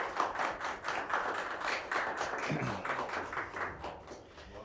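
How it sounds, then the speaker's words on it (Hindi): An audience at a BPSC officers' selection event claps for a newly chosen officer, giving a short, fairly close round of scattered applause with a few louder taps. "प्लीज तालियां बजा सकते हैं हम सब लोग।"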